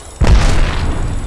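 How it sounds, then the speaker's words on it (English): A grenade explodes in Apex Legends as a single sudden, loud, close boom with a heavy low thump, fading into a rumbling tail over about a second. "They're throwing a lot of grenades at us."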